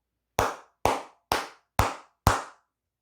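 Five sharp, evenly spaced hand claps, close and clear against silence.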